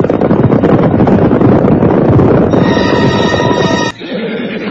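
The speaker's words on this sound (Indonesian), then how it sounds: "Kita tidak bisa berkuda bersama-sama seperti ini, Rawadeng." A horse neighs in an audio drama sound effect, a loud, long whinny with strong wind-like noise and steady hoof-beat texture underneath, ending in a sharp cutoff followed by quieter rumble.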